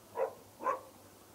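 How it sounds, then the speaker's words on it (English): A dog barks twice while chasing, two short moderate barks about half a second apart over a quiet outdoor background. "Oh, got a dog chasing me."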